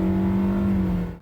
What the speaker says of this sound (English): As you can hear, the CVT does go through some shift points.